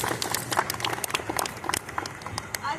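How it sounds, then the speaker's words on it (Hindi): Audience at a Hindu gathering clapping loudly together, a dense burst of applause with a voice over it. "इसके लिए हम अपने आप के लिए जोर से तालियां बजाएं।"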